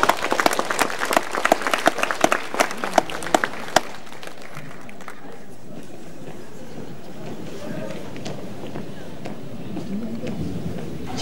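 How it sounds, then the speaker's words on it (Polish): Audience applause at a senior citizens' day event with cabaret sketches, a burst of clapping from a crowd that fades out after a few seconds, leaving a murmuring room. "Proszę o brawo."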